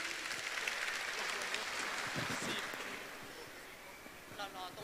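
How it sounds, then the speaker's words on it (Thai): Applause greets a provincial governor at an outdoor agricultural fair in Udon Thani, Thailand: a faint, diffuse crowd clapping that fades away, after which a voice briefly speaks over the background. "ขอเสียงปรบมือต้อนรับดังๆเลยค่ะ"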